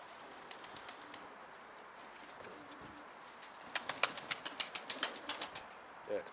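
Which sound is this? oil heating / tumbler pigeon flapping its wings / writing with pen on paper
tumbler pigeon flapping its wings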